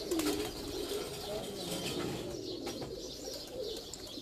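Pigeons on a rooftop during a one-day pigeon-flying tournament give low, repeated coos and brief wing flutters. The sounds are moderately close but quiet over steady outdoor noise, and a voice murmurs faintly in the background.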